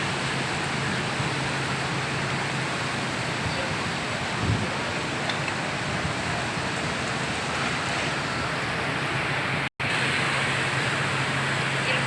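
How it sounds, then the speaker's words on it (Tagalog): Steady, even hiss of rain falling continuously in Metro Manila, with a brief dropout near the end and no talk. "Yan, tuloy-tuloy ang ulan."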